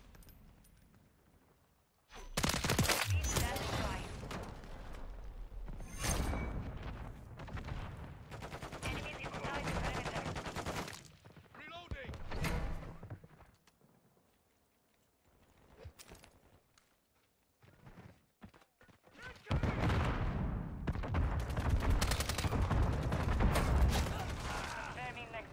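A BAS-B rifle firing in Modern Warfare 3, sounding as long, fast automatic bursts that come and go in several strings, with short lulls between, and a voice speaking over it.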